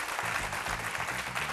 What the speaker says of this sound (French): Ils vont s'applaudir très fort.